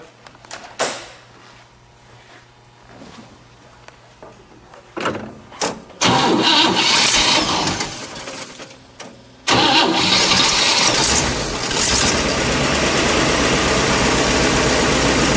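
A 1959 Cadillac Series 62 Convertible engine cranks and catches, then roars loudly and revs before settling into a steady, loud running note; a few clunks precede it.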